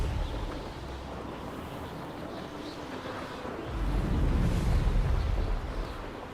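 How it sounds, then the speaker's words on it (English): A rumbling explosion from the Confringo blasting curse in Hogwarts Legacy swells into a deep, roaring boom over steady game noise, loud and sustained for a couple of seconds. "Confringo!"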